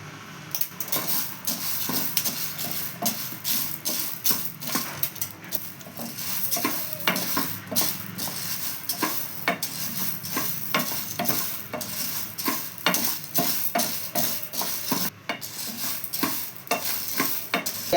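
Ingredients for munthiri kothu being stirred and roasted in a pan over low heat, with cardamom added: steady scraping and stirring strokes over a soft continuous sizzle, close and fairly quiet, with occasional utensil clinks.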